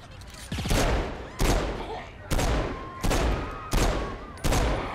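Gunfire in the video game Saints Row 4 comes as five or six loud, sharp bursts spaced roughly a second apart, each trailing off briefly, with game sounds between them.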